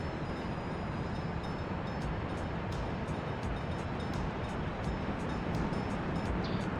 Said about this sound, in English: There's the train emote.